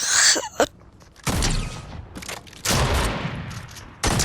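Gunfire from a headshot kill in the video game Fortnite Chapter 3 Season 2: three loud, close bursts of shots separated by short pauses, with no talk.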